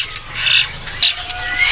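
Green leafbird (cucak hijau) for sale at a bird kiosk, giving short bright chirps and squawks in irregular bursts, fairly close, with market background noise.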